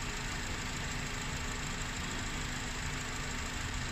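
A car engine is held at a steady 2500 rpm during a charging-system check, giving a continuous, even mechanical hum with no pauses and no speech.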